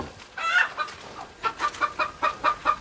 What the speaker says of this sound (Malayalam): ഇതാണ് അൻവർ ഭായിയുടെ കോഴി ഫാം.